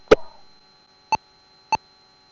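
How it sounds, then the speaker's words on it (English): A short click followed by two brief electronic beeps from an aircraft radio, evenly spaced, in an otherwise quiet cockpit. "1 beep means it's muting music, and 2 beeps means it plays through."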